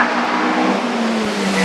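A Formula Atlantic race car at the Shelsley Walsh hillclimb roars past, its engine a steady high-pitched drone with a slight rise, loud and fairly close, with no voices.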